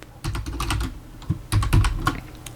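Computer keyboard typing in two quick bursts of clicky keystrokes, close and fairly loud, with a short pause between them and no talking.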